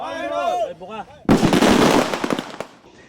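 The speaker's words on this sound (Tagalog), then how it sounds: "iligal na paputok na kinumpiska, pinasabog at sinira ng NCR Police Office" A voice speaks briefly, then a loud burst of confiscated illegal firecrackers, detonated by police in the Philippines at New Year, crackles and pops in rapid, irregular bangs before trailing off.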